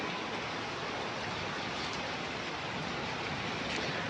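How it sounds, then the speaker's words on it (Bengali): Heavy rain falls steadily, a dense, even wash of hiss with no breaks, close and fairly loud throughout. "আকাশে প্রচুর বৃষ্টি হচ্ছে"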